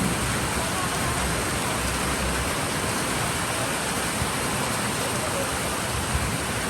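Heavy Philippine rainfall hisses evenly and continuously, a thick unbroken wash of drops with no clear voices over it.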